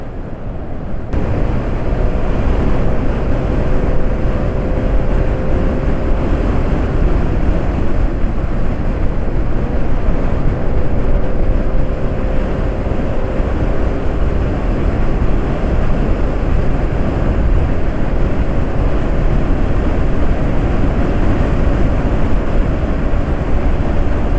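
A motorcycle running a high-speed test on Yamalube RS4GP oil in cold weather gives a loud, steady engine drone mixed with heavy wind rush, continuous for the whole stretch with no talk.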